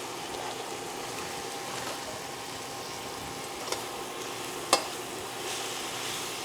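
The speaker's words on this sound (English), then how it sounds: "I'm gonna give that a nice saute." Spinach sizzles steadily in a hot pan with juices left from seared salmon. There is a constant, moderate frying hiss with a couple of sharp utensil clicks against the pan, and no talking.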